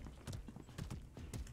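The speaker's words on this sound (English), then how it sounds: "There's a horse." Horse hooves clip-clopping in the medieval combat video game Mordhau, a quick steady trot of soft thuds repeating several times, faint and in the mid-distance with no voices.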